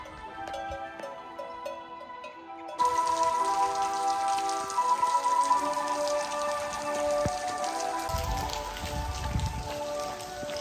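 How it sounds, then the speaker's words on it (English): Rain falls in a steady patter on the Camino de Santiago route near Santillana del Mar, under music that plays throughout and grows louder partway through. "It's rain, but it's still good vibes"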